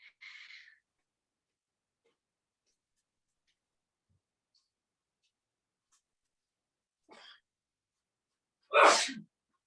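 A single sharp sneeze near the end, heard from another room in an otherwise quiet room, after a couple of faint brief sounds.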